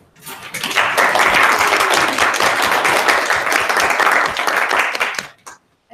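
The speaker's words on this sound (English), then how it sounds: "A huge round of applause for all participants and for those who reached today's final" A large audience at a school geography bee final breaks into sustained applause for the participants, dense, loud clapping swelling within the first second, holding steady for about five seconds, then quickly dying away.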